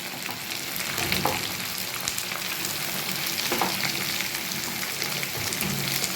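Vegetables, including carrot, sizzle steadily in a hot pan for spring roll filling, with occasional scraping stirs cutting through the constant close frying hiss.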